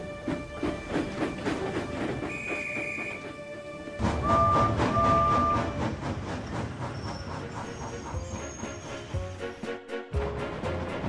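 An animated children's railway story with a steam engine running through the countryside: a steady rhythmic chug with hiss and rail clatter under music, swelling louder midway.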